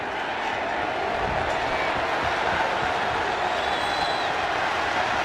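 A steady roar from a stadium crowd at a Patriots versus Seahawks NFL football game, dense and continuous throughout, with a faint whistle-like tone partway through and no clear words.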